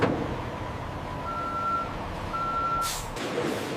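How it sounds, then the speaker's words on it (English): A truck docks at a roast turkey factory, its reversing alarm beeping in two short runs over a low engine rumble, ending with a sharp hiss of air brakes. "Every truck docks the same way."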